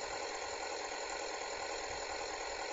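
Steady, droning tractor engine idling in Farming Simulator 2011, a constant even hum with a faint low throb and no other sounds.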